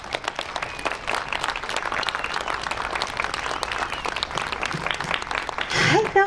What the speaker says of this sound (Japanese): では今一度盛大な拍手でお送りください。